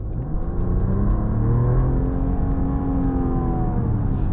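A 2024 Mercedes-Benz E450 4Matic Pinnacle's inline-six engine accelerates, a smooth, steady hum with rising tonal harmonics and low road rumble, heard close from inside the car with no talking.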